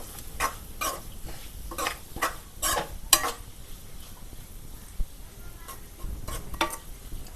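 A spoon stirs a broad beans curry with garam masala in a pan, giving scattered scraping clinks in short bursts over a faint background sizzle, with no talking.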